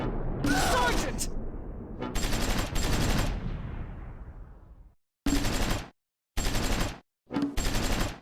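Bursts of machine gun fire in the Close Combat 4 Battle of the Bulge game at Clerf, several loud sustained volleys with gaps of silence between them, the first rolling into a long fading echo.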